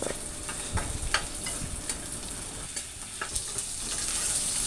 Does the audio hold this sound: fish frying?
yes